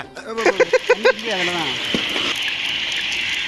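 Appalam frying in hot oil at a catering event's cooking setup: a steady, close, hissing sizzle sets in after a brief spoken phrase and continues evenly to the end.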